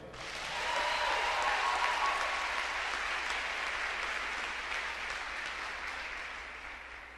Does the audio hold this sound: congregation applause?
yes